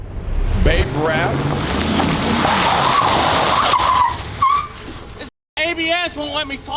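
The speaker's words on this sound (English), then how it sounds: "ABS won't let me slide it." A car skids and slides on pavement in a drifting attempt, its loud tire noise and engine roar sustained for several seconds before cutting off, followed by people talking.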